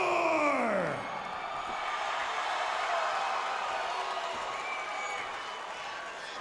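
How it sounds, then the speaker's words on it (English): A fight-night crowd in Independence, Missouri cheering for fighter Mitch Gilmore: a broad, sustained roar of voices and whoops at a distance, beginning with a falling whistle-like tone and holding steady throughout. "So for the biggest pop of the night from this Independence, Missouri crowd, going to Mitch Gilmore"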